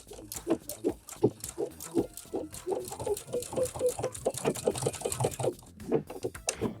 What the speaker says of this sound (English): So we're sewing straight up from the fly.